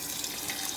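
A cup of water poured into a crock pot holding chicken: a steady, close splashing pour at even loudness throughout, with no talking.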